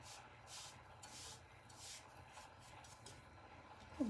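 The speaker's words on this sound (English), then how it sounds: "Once I brush off this excess." A brush sweeps excess material off a tacky, tape-wrapped candle tumbler, giving soft, repeated rubbing swishes at a steady rhythm, close and fairly quiet, ending with a sharper brief knock.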